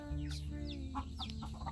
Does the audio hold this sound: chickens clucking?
yes